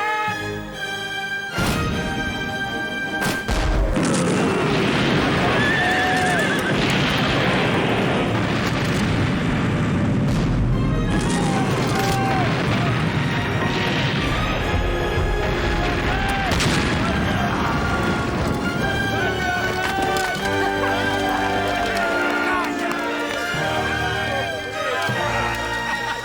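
Ship's cannons thunder through a staged naval battle scene, a dense, continuous barrage of heavy booms and blasts with orchestral music swelling over the gunfire and shouted voices breaking in.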